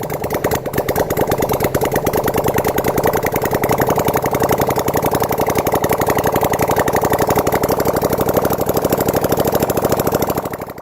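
A Honda CX500 motorcycle engine runs on a test stand, its rapid, even putter holding steady and loud for the whole stretch before easing slightly at the end.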